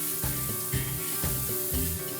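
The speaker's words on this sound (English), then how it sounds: "you kind of just gotta listen to the sizzle" Sauce with sesame oil and garlic sizzles hard in a hot wok, loud hissing and spitting swelling in repeated bursts roughly every half second as the food is tossed.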